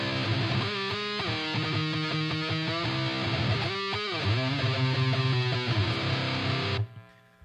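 Electric guitar played through a lo-fi rhythm preset on an Axe-Fx, with distorted, filtered chords strummed steadily and close before the sound cuts off abruptly near the end.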